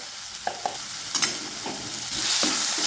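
Onion and ground spices such as coriander powder, garam masala, salt and cumin powder being stirred in a pan for egg bhurji, soft sizzling with a few spoon scrapes and taps, no talking.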